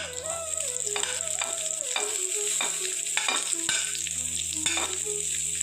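Vegetables for fried rice sizzle loudly in a pan while a utensil scrapes and clanks against it in irregular strokes, close up and without any talking.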